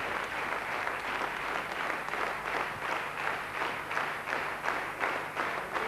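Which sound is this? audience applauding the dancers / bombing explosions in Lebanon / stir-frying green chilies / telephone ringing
audience applauding the dancers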